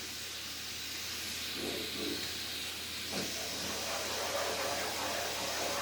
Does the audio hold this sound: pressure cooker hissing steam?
yes